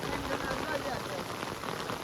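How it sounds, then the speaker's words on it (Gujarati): Heavy rain pours down in a village, a dense, steady hiss of drops drumming on surfaces that holds constant and loud throughout. "બહુ વરસાદ છે બહુ એટલે બહુ આવ્યા જો"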